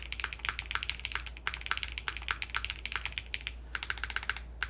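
Fast typing on a gasket-mount mechanical keyboard built with no foam and a plate: a dense, steady stream of sharp, close clicky keystrokes over a low hum.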